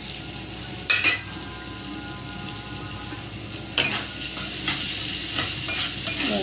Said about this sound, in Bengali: আমি এবার এই তেলেতে পেঁয়াজ দিয়ে দেবো।